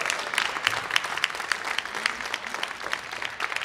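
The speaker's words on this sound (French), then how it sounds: "On peut les applaudir, bravo." A comedy-show audience claps steadily, a dense patter of many hands at moderate volume with no voices over it.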